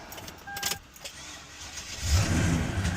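A large 5.7-liter V8 engine cranks and fires up after a faint jingle of keys, then settles into a steady, low idle that holds close and fairly loud.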